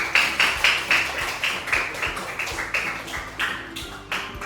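Elementary schoolchildren in a classroom clap together in a steady, rhythmic run of hand claps that lasts throughout, fairly close and with no talking over it.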